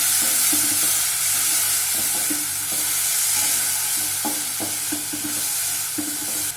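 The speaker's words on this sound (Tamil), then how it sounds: "அடுத்து நம்ம அரைச்சி வச்சிருக்க விழுதை இதோட ஆட் பண்ணிக்கலாம். நல்லா வதக்கிக்கோங்க." Ground spice paste sautéed in a pan of spluttered mustard seeds for a green peas sundal: a steady, close sizzle with soft stirring scrapes and small pops throughout, no voices.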